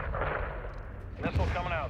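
An aerial gunship firing on a vehicle convoy in the Modern Warfare campaign, with heavy booming cannon impacts and rumble mixed with radio chatter from the game.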